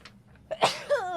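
A single sharp sneeze from a player at a tabletop role-playing game session, followed right after by a short voiced sound.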